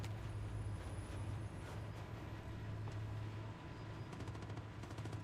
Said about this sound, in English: Now, what worries me is I'm hearing gunfire